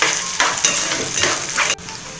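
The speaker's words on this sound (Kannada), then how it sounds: "ಈರುಳ್ಳಿ ಎಲ್ಲ ಚೆನ್ನಾಗಿ ಫ್ರೈ ಆಗಿದೆ." Chopped onions frying in a pan for a ridge gourd palya, a loud continuous sizzle with a few stirring scrapes, close up, cutting off abruptly near the end.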